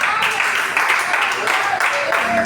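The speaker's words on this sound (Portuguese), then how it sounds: "Com as palmas bem fortes" A church congregation claps hands hard and steadily, a dense, loud, continuous patter of many palms that fills the whole moment, with no talking on top.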